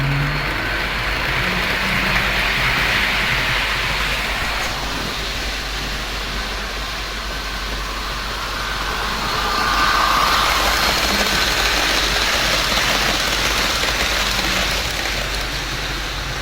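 Toy trainset with model locomotives, one pushing another along the track: a steady continuous whirring motor hum with broadband rumble that swells slightly partway through, no voices.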